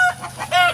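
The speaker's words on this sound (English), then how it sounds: "Look at him running after that chicken" A hen clucks in two quick, close bursts over less than a second, loud and clear with no talking.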